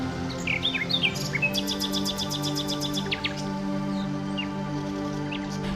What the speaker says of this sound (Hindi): पंछियों की मधुर चहचहाहट